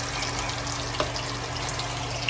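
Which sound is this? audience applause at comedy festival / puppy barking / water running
water running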